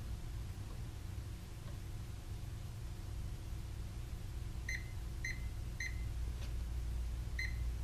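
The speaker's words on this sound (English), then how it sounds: "The controller will then beep to indicate the mute function has been enabled." Several short electronic beeps, high and thin, from a Rinnai tankless water heater controller signalling mute enabled, over a steady low hum and background noise, a few in a row then one more after a pause.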